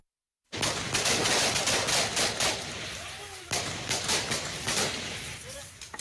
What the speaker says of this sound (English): Deafening gunshots,